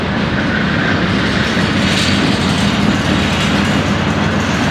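A CSX freight train rolls past steadily in Teaneck, New Jersey, heard from a bridge above the tracks, with a loud continuous rumble and clickety-clack of railcar wheels throughout.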